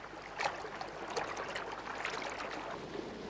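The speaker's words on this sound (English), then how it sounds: "Red-winged starlings bathe in the river." Red-winged starlings bathing in a river in a valley at late afternoon: steady rushing water with scattered splashes and flutters throughout, moderately loud and continuous with no voices.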